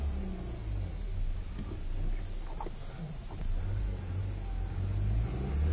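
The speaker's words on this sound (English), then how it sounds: "this car has like no power at all. Absolutely struggles." Engine of a 1997 Ford with hard starting and rough idle drones under load, a low steady rumble that swells unevenly as the car strains to accelerate.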